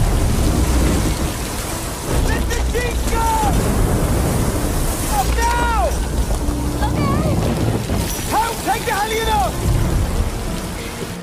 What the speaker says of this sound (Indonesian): Namun kapal mereka memasuki area yang terjadi badai.